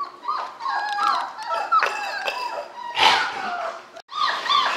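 A litter of 26-day-old puppies whimpers and yips continuously nearby, with high, wavering whines overlapping and a louder cry near the end, and no speech.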